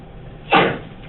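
A single sneeze in a classroom, one sharp, fairly close burst that fades quickly against quiet room noise.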